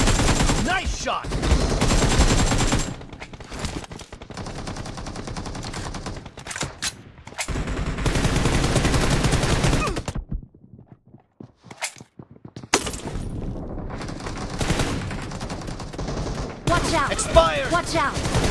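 Gunfire in the mobile shooter Battleground Mobile India during a team deathmatch, dense bursts of automatic fire and single shots, loud and nearly continuous with a brief lull, under game announcer voice lines.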